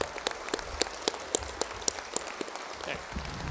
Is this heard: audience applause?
yes